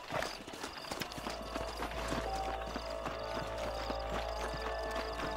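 Horse hooves in the Red Dead Redemption video game clip-clop in a steady quick rhythm on hard ground, several horses moving together, close and continuous with a low rumble underneath.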